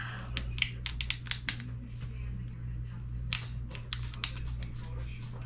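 Sharp clicks and small cracks come from a flat-pack IC chip being pried and peeled off a regular Nintendo game circuit board with gold-finger contacts, scattered irregularly and close, over a steady low hum.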